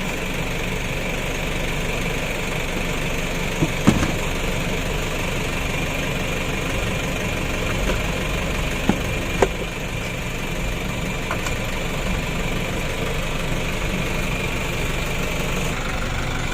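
A rebuilt 2017 Mitsubishi L300 diesel engine idles steadily and loudly nearby, with an even mechanical clatter and a few faint clicks and knocks over the running engine.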